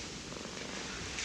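A cat purrs steadily at close range, a soft continuous rumble with a faint breathy hiss and no talking over it.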